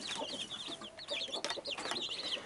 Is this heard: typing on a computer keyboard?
no